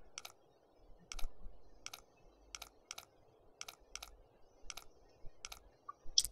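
A combination lock dial in The Long Dark video game gives off about a dozen small, crisp clicks at a fairly steady pace as it is turned, heard close over a soft, quiet background.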